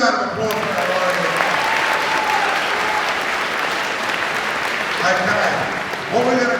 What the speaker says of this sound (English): Big round of applause for our warriors.